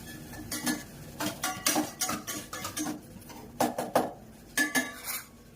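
Capsicum frying in a pan for a chapati egg roll snack, stirred with a metal spatula in repeated scraping clinks against the pan, with a faint sizzle between the close strokes and no talk.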